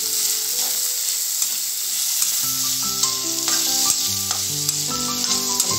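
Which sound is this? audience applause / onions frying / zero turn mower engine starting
onions frying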